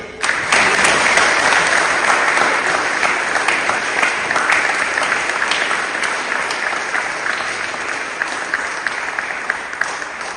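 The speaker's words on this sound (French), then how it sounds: "Et on va vous applaudir." A Protestant church congregation at an Easter Sunday service in Mertzwiller breaks into loud, dense applause that starts abruptly and holds steady before easing slightly toward the end.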